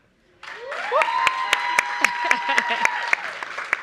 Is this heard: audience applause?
yes